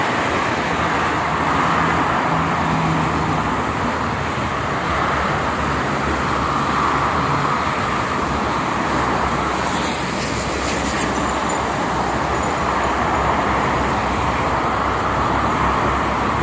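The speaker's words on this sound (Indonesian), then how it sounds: "Bisa dilihat mobil-mobil pribadi mendominasi pagi ini dan juga sama bis-bis pariwisata ya." Steady traffic on the Jakarta–Cikampek toll road in the morning, private cars and tour buses streaming past in a continuous loud roar, with no talking over it.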